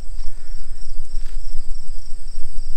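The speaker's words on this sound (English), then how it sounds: "I can hear frogs in the pond, which is cool." Frogs or insects in a backyard pond by a gazebo at an abandoned castle mansion, a continuous high-pitched trilling chorus holding steady over low rumbling background noise, fairly loud and without talk.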